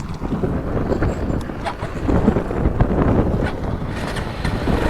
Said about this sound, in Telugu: వైజాగ్ గాలి ఉంటది భయ్యా